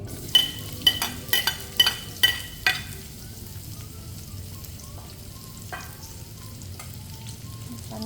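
Pork menudo ingredients are sautéed in oil: a handful of quick metallic stirring clatters come in a rapid series near the start, then a low, steady sizzle carries on quietly with one more faint scrape later.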